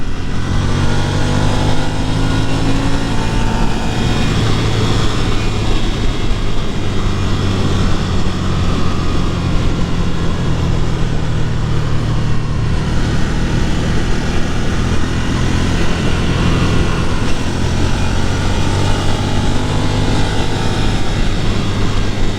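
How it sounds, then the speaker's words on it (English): A 2022 Ducati Nightshift naked motorcycle revving at high RPM through a canyon, a loud, steady engine drone with wind rush filling the whole stretch without a break. "this is where the Ducati really likes to go, is once we can get into these higher RPMs"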